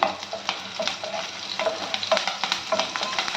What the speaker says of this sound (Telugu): ఆనియన్ మంచిగా ఫ్రై అయ్యాక కొద్దిగా కరివేపాకు వేయాలండి